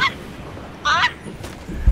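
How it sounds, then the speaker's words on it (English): Geese honking sound effect: a short burst of nasal honks over a noisy background, with fainter honks after it. "Who's playing the geese caw sound effect?"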